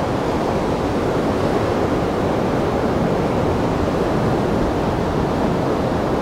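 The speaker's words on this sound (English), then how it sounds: "I hear the river" A flooded river rushes at high water in Thurmond, West Virginia, making a steady, broad roar that holds at an even level throughout with no voices over it.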